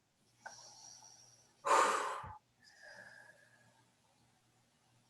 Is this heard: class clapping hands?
no